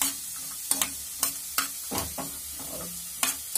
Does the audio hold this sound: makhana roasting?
yes